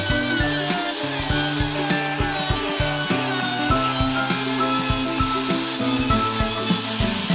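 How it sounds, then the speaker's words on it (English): A router cuts a Roman ogee profile into the edge of a rough wooden clock face, a loud, steady high whine broken by rhythmic pulses as the bit works along the wood, with no voices. "route a Roman Ogee profile onto the face of this clock"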